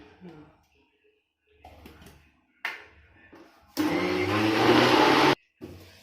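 An electric blender grinds fruit cake batter with rose water in one loud, harsh whirring burst of about a second and a half. Quieter handling noises and talking come before it, and a voice follows.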